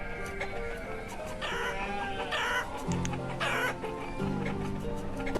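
Chickens in the video game Banished cluck and squawk in a busy flock, with overlapping bursts and calls repeating through the stretch, fairly close and clear with no talking.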